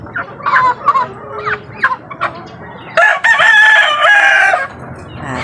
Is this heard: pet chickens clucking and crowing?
yes